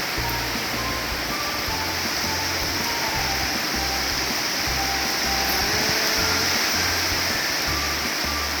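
Heavy rain pours down at an elephant enclosure as water flows in, a steady dense hiss of rainfall and rushing water with a low rhythmic thumping underneath, constant and loud throughout.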